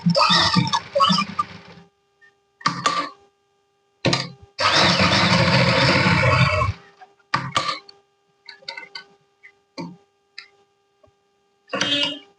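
Stitching along both sides of a handmade bag keychain, heard as short bursts of machine sewing plus one longer continuous run, separated by silent pauses and small clicks.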